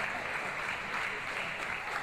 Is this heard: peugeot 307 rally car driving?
no